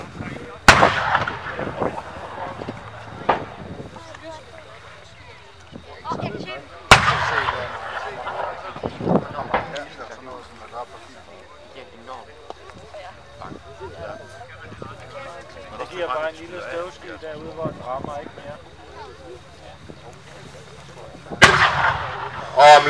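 Leopard 2 tank 120 mm cannon firing in Denmark: sharp, heavy booms ring out near the start, around the seventh second and near the end, with rumbling, clattering background noise and voices talking between shots.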